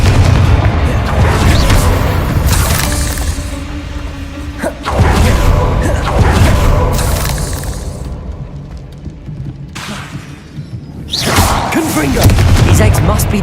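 Repeated Confringo blasting spells in Hogwarts Legacy go off against spider eggs as heavy, loud booms, several large explosions with rumbling tails separated by brief lulls, while a voice speaks faintly underneath.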